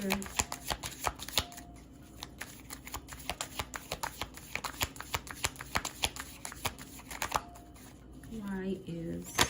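Tarot cards being shuffled, a quick run of crisp, snappy riffles and flicks close by, with a brief voice near the end.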